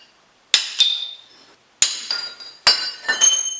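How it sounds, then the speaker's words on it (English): A hammer strikes a steel punch to drive shims out of the U-clamps on a Jeep CJ7 front suspension, three sharp metallic clangs spaced apart, each ringing briefly with small rattles. "let's just get a punch and punch them out"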